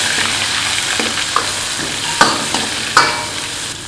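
Pork, spices and chicken giblets stir-fried in a wok: a steady loud sizzle with scattered clanks and scrapes of the spatula against the pan.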